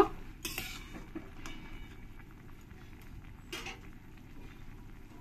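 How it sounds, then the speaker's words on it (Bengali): Fried puti and mourala fish being mixed into helencha greens in a pan, with faint scrapes and a few clinks of a utensil against metal at a low level, alone and without talk. "মাছগুলো দিয়ে একবার শাকের সঙ্গে ভালো করে মিশিয়ে নেব।"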